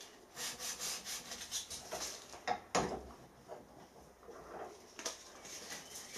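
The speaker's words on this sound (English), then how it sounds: "I'm just going to gently take all the burrs off it so we've got something nice and flat to start with." A piece of metal casing being deburred by hand with a file: a series of rhythmic rasping strokes, fairly close and quiet, with a couple of sharper scrapes and knocks between them.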